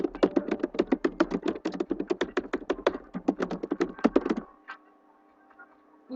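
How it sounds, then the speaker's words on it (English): Rapid typing on a computer keyboard, a dense run of sharp key clicks for several seconds that stops abruptly, followed by a faint quiet hum. "I type so fast, but it hurts my fingers."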